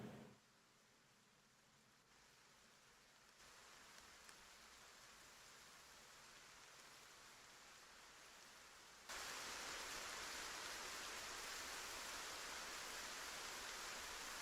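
Rain falling in the Gray Zone Warfare video game, a steady faint hiss that grows denser and louder in steps, with no voices over it.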